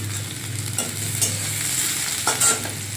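Onion with a ginger, garlic and green chilli masala sizzles steadily in a pan while being stirred, with a few scraping clinks of the spoon and no talking.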